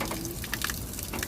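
Water being filled outside near a temple in a Rampur market area, brief faint splashing and trickling with small drips, heard at a distance against a quiet background.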